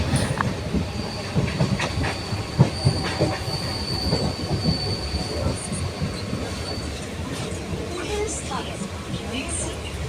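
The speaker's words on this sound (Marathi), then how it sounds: "इथं बसलेले आहे मी ट्रेनमध्ये" A crowded commuter train ride, with steady rumbling wheels, rhythmic rail clatter and a thin, high wheel squeal running throughout, loud and continuous from inside the carriage.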